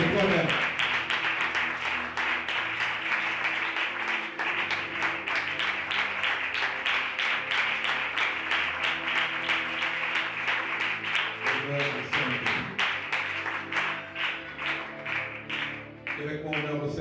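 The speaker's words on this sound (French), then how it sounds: "Acclame encore très fort pour toi-même." Congregation at a French-language teaching church service cheers and applauds loudly and continuously, a dense wash of clapping with voices rising over it throughout.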